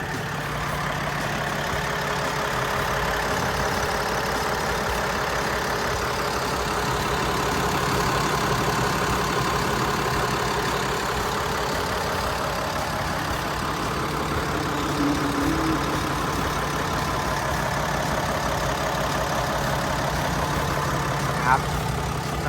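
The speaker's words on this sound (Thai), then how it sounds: "เขาจะเป็นเครื่องยนต์ 6 สูบเทอร์โบนะครับ" A Komatsu WA500-8 wheel loader's six-cylinder turbo diesel engine idles with a steady, rumbling drone that stays constant throughout, heard up close.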